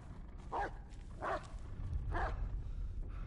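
Three short, separate barks from a dog in the Blair Witch video game, spaced about a second apart at moderate distance over a low, rumbling ambient background.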